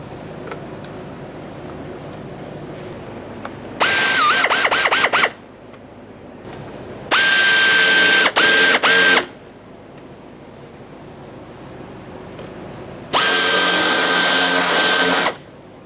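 A cordless power drill drives screws to fasten a mud flap on a 1992-1996 Toyota Camry, with three loud whirring bursts of one to two seconds, each ending in quick stuttering pulses, separated by quiet pauses.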